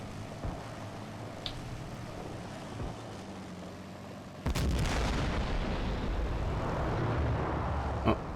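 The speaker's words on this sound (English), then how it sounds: "just ammo exploding in our BMP" Ammunition cooking off inside a BMP infantry fighting vehicle in Combat Mission: Cold War, a sudden loud burst of crackling, rumbling detonations that begins partway through and keeps roaring, with a sharp pop near the end, over quieter battle noise.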